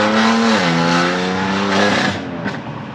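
A tuned 570-horsepower car engine (stage 2+ MHD) revs hard and rises in pitch, then drops off with crackling exhaust pops as the throttle is released; loud and close, no talk.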